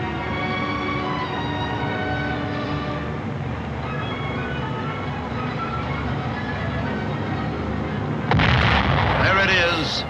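A radio-guided bomb strikes its target in wartime archival film, a sudden loud explosive blast bursting in near the end after a long stretch of steady narrated soundtrack with music and hiss.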